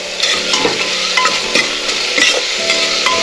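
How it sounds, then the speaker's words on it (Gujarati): Steady hiss of tomato, pigeon peas and brinjal frying in a pan, with stirring scrapes and light clinks recurring throughout, close and fairly loud, no voices. "ટામેટું થોડું સંતળાઈ જાય ત્યાર પછી આપણે એમાં શાક ઉમેરીશું"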